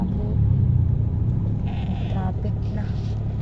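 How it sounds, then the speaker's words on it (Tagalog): Night road traffic in Sablan, Benguet, with a steady low engine rumble from passing vehicles filling the whole stretch, close and continuous, and people talking over it. "Traffic na."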